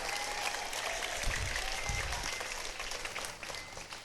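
Audience applause at a school orientation ceremony, soft and distant continuous clapping with a low rumble of crowd noise, no clear speech.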